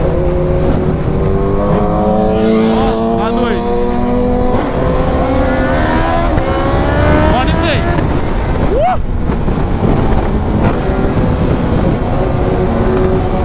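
A motorcycle fitted with nitro accelerates hard through its first gears, its engine note climbing in rising sweeps under steady wind noise, with people talking over it.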